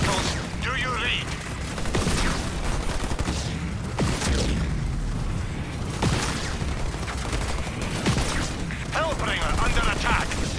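Enemy vehicles fire on a Hellbringer unit in the Halo Wars 2 strategy game: a loud, dense barrage of gunfire and booming impacts rolls on steadily for the whole stretch, with brief bursts of voices cutting through the battle noise.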